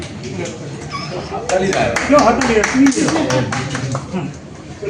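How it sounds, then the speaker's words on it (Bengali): A crowd claps loudly at a Durga celebration, with sharp overlapping claps building after a quieter start. Voices can be heard in the background. "খুব ভালো জোরে হাততালি"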